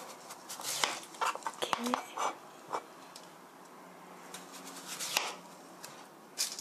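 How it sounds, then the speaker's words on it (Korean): A knife cuts through daikon radish for pickles, giving several close, crisp chops and taps that cluster early and again near the end while a person talks over them. "그럼 먼저 무는 등은 잘라주시고요"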